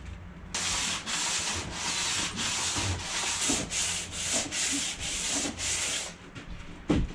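A caravan panel is hand-sanded to roughen it before primer, giving close, loud rhythmic scrubbing strokes, about nine back-and-forth passes in a steady rhythm, with no talking.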